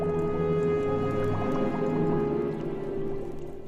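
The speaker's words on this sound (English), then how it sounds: "Come you closer, and stand before my bubbling cauldron" A witch's cauldron bubbles and drips in a steady, close liquid burbling, with low sustained tones beneath the popping bubbles.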